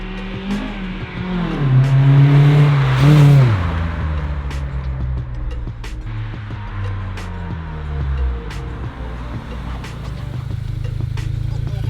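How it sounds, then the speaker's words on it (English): An Acura RSX with an HKS Hi-Power exhaust and Injen short ram intake roars past nearby, its exhaust revving hard then fading as it drives away, with wind noise and a voice in the background. "We're gonna do a blow by just to see what the exhaust sounds like"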